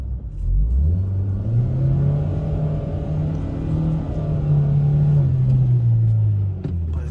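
A car revs hard as it drives out through a forest track. The engine gives a loud, close, sustained roar that rises and then holds high before easing off briefly near the end, with no voices.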